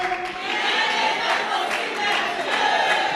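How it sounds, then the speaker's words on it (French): A church congregation loudly acclaiming the Lord during a sermon, a sustained roar of many voices cheering and shouting together, steady and loud throughout. "On acclame très fort le Seigneur."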